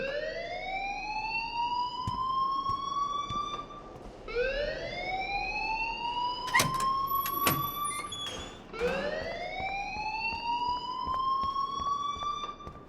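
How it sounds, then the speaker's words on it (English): An alarm rings in Life is Strange, three repeated rising electronic whoops with short gaps between them and a few sharp clicks, fairly loud and without speech. "please turn off that alarm since that's your job"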